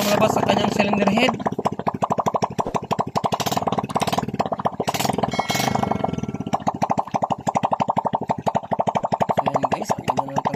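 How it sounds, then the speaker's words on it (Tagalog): A Honda XRM 125 motorcycle engine with a newly replaced connecting rod idles close by, putting out a loud, steady, rapid chugging pulse that stays even throughout. "Umandar na ang kanyang motor. Napakaganda ng tunog."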